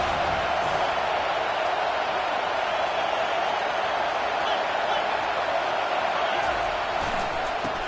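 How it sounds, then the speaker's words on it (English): Home fans roar at a college football game as the defense tries to get off the field on third down, a dense, steady crowd wash with a commentator talking over it. "Here comes this home crowd as the defense tries to get off the field on 3rd down"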